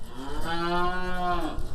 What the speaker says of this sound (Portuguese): As vacas leiteiras tem umas 25.